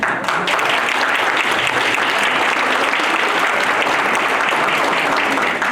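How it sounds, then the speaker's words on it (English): Loud, dense applause from a high school reunion crowd honoring classmates whose names were read out, an even sustained roar of many clapping hands close by with no voices. "Give them a round of applause."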